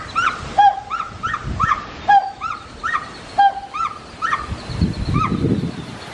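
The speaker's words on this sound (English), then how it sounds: "Came back to the pileated gibbon a third time and he started singing." A pileated gibbon at a zoo sings a series of rising, whooping hoots in a repeated rhythmic pattern, clear and fairly close, over faint background rumble.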